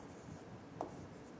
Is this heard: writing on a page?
yes